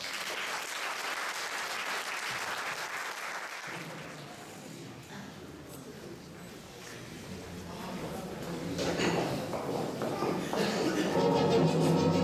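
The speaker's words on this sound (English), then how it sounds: "you, the audience, will appreciate it with applause" An audience applauds at a school ceremony, sustained clapping from a crowd that dips slightly and then swells louder toward the end.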